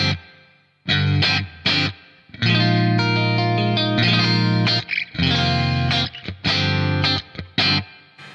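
Electric guitar through a BOSS 500 series pedal set to bright reverb with the high decay boosted, playing loud strummed chords and short bursts that sustain and trail off into a shimmering wash, no voices.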